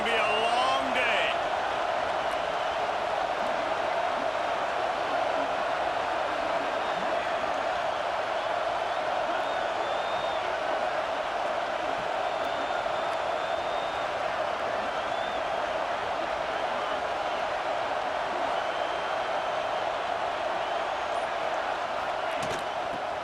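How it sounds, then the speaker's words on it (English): Packed football stadium crowd in Tuscaloosa roaring at full throat, a loud, unbroken wall of cheering that holds steady throughout, with a commentator talking over it. "This crowd, full throat, spreading the eardrums and letting them know it's going to be a long day"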